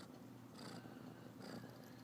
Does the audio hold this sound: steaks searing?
no